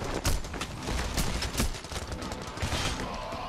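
Rapid gunfire bursts in the heist shooter Payday: The Heist, a dense run of overlapping shots throughout, loud and close with no talk over them.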